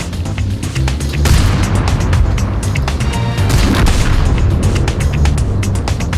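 Tank cannon fire in World of Tanks from an E-25 tank destroyer firing from ambush on the Abbey map: repeated heavy booms and crashes inside a loud, continuous game mix with no pause across the whole stretch.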